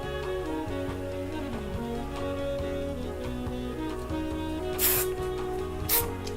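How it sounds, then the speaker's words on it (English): Hairspray is sprayed onto a short styled hairdo in two quick hissing bursts, close and sharp over soft background music. "just hit it with spray"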